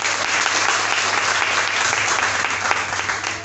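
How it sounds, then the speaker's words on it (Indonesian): A congregation at an Easter service applauds, a dense, steady burst of clapping that holds at full strength for about three and a half seconds, with a faint low hum beneath it. "Berikan tepuk tangan."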